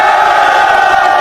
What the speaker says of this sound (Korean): 그러니까 알았으면은 함성을 지르고 끝냅시다